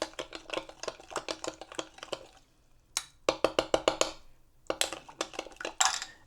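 A spoon stirring taco seasoning into water, a quick series of close metallic clinks and scrapes against the bowl in several bursts with short pauses between them.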